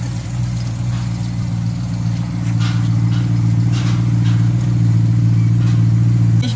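A BMW E92 M3 idles at a standstill, giving a steady, close, low engine rumble with a constant hum. Its level stays even throughout, with no revving and no voices.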